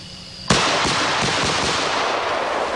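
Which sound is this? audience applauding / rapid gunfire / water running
rapid gunfire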